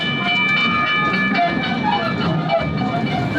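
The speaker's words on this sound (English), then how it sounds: "A theme park is not a theme park if they don't have a train that goes all around." A Legoland Malaysia theme park train rolls steadily along its track, a loud continuous rumble with faint clicking and a sustained tonal whine throughout.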